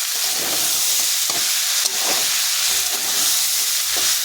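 Prawns and figs in curry sizzle steadily in a pan while being stirred, with a continuous loud frying hiss and occasional soft scrapes, and no voice.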